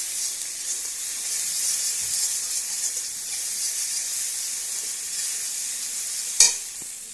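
Small fish sizzle steadily in hot mustard oil seasoned with cumin powder, a continuous bright hiss close up, with one sharp clatter near the end.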